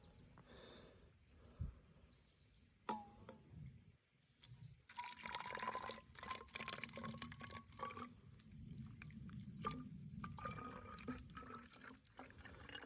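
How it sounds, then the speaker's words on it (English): Filtered water, cleared of black dirt, is poured from one container into a different cup, giving a quiet, steady trickling and splashing stream with a few drips, faint and close. "And I'm going to pour this into a different cup."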